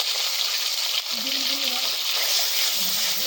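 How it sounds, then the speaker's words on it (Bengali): Eggs frying in hot oil outdoors in a forest during heavy rain give a loud, continuous close-up sizzle, with faint clinks of a utensil. "ডিমগুলো দিয়ে দিই ডিমগুলো ভেজে নিই"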